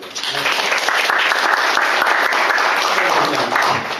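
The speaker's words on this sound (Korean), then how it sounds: "박수 치는 거." Church congregation applauding in a sanctuary, a steady dense wash of clapping that holds for several seconds, fairly loud and close, with no talk over it.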